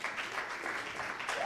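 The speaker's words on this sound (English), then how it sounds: "A round of applause for him." Audience applause at an award ceremony honoring a category runner-up, a dense continuous wash of clapping from a crowd, fairly faint and distant, with no distinct voices.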